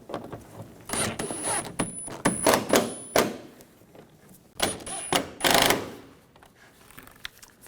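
Fasteners being tightened on the front bumper impact absorber of a 2013–2019 Ford Escape, with bursts of ratcheting clicks and short mechanical whirs separated by pauses, close and fairly loud.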